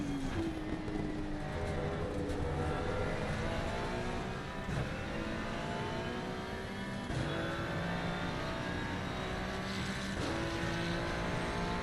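A race car engine in a sim racing video game holds second gear under throttle management, droning loudly and continuously with rising and falling revs and gear changes, with no talk over it.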